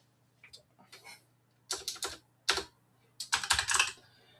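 Typing on a computer keyboard nearby, heard as quiet scattered taps followed by short, rapid bursts of clicking keys, with no talk.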